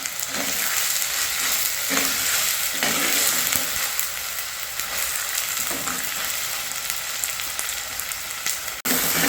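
Onions and curry leaves fry in a pan for a village-style chicken kulambu, a steady loud sizzle with occasional stirring scrapes, uninterrupted and with no voices.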